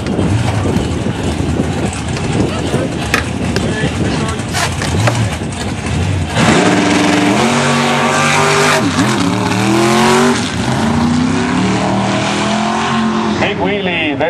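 A drag race car runs down the track at a drag racing final, engine roaring loud and sustained with rising, warbling revs and tire squeal, while a commentator talks over it.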